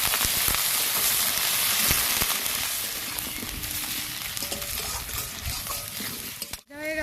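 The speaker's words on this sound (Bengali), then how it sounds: "আলু আর পেঁয়াজ আমি একসঙ্গে ভাজবো।" Potatoes and onions fry together in hot oil in a pan with a continuous crackling sizzle, softening slightly midway, before a sharp clatter from the pan near the end.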